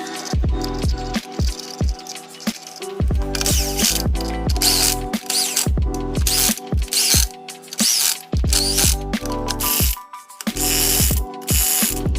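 Ratchet wrench tightening wheel lug nuts on a 2000 Chevy OBS dually truck with milled Alcoa wheels, rapid clicking bursts in repeated runs separated by short pauses, loud and close with no talking.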